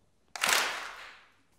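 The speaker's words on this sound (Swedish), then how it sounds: "Så en applåd." One crisp unified clap from a large audience at a student theatre show, a single sharp burst that rings out and decays in the hall, with quiet before and after.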